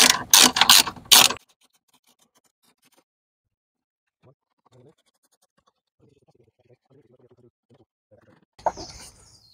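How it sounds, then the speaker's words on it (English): Wrench or ratchet undoing 10mm bolts on a Ford Focus battery tray, heard as a quick burst of loud, close metallic clicking and scraping, then near silence with faint rustles and a last scrape. "I've got to undo these two 10mm bolts to undo the battery tray"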